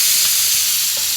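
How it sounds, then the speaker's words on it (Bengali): Marinated chicken pieces frying on a hot tawa, a steady close sizzle with a soft crackle, no voices over it. "তাওয়াতে চিকেনগুলো একটু ভেজে নেব, ম্যারিনেট করা চিকেনগুলো"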